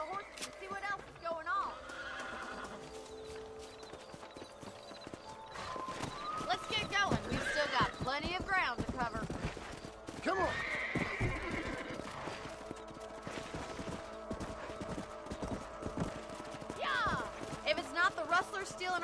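Horses whinny and neigh repeatedly over galloping hoofbeats in a video game, close and fairly loud, with people talking over the action.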